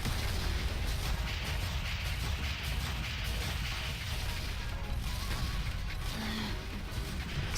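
A weapon fires steadily into an enemy spawn point in the tower-defense shooter Sanctum 2, making a dense, continuous wash of blasts and impacts with no break for the whole stretch.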